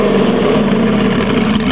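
A GM LS3 V8 with a radical cam and a tuned engine computer idles roughly, producing a loud, steady, close-up rumble that continues without a break.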